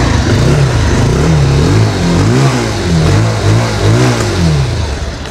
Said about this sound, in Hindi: इस बाइक का सबसे पहले हम एग्जॉस्ट साउंड सुन लेते हैं